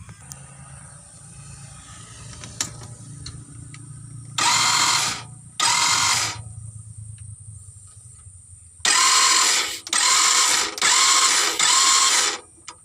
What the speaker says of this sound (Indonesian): saya mau mencoba dulu menindih starternya, teman-teman bisa dengarkan kira-kira apanya yang rusak kalau seperti ini